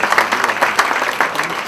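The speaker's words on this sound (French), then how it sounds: "On peut peut-être applaudir non seulement Florence" Audience applause at a human rights debate, a continuous wash of many hands clapping at close range, fairly loud and even, with no voices on top.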